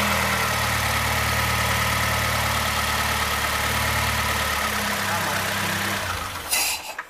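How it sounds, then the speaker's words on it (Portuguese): A car engine idles quietly and steadily up close, a low even hum with a small grounding-wire fault nearby, running alone until it is cut off near the end with a few clunks. "Vai o barulho do motor todo silenciosozinho de novo."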